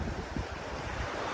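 Ocean waves and breeze at Panama City Beach: a dense, steady wash of surf and wind rumble buffeting the microphone, continuous and close, with no voices.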